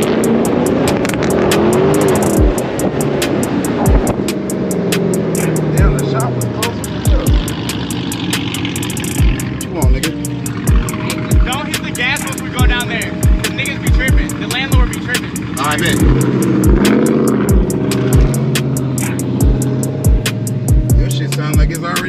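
A Dodge Hellcat engine rumbles steadily and rises in pitch as it revs, with a repeated rapid ticking clatter throughout and some road or cabin noise.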